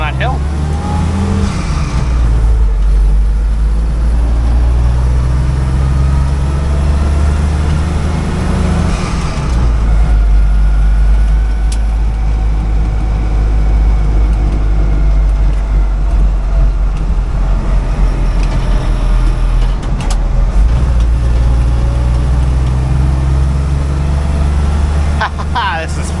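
A 1956 Willys CJ5 jeep with a newly fitted engine drives along, its loud low engine drone rising and falling with throttle from inside the cab while someone talks over it.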